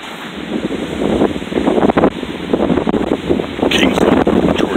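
Hurricane Irma winds roar through trees in Kingsland, Georgia, in loud, gusting rushes that buffet the microphone, surging and easing without a break.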